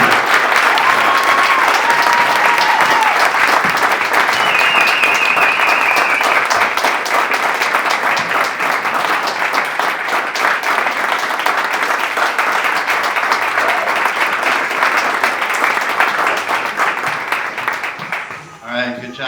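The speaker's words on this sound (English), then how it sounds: "Give everybody a round of applause" Loud, sustained applause from a large crowd, dense clapping throughout with a few cheers, tapering off at the very end.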